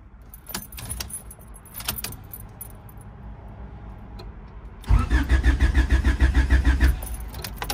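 A car engine is cranked repeatedly with a boost but fails to start. Quiet mechanical clicks and jangling come first, then a loud, close, rhythmic starter churning that pulses for several seconds without catching.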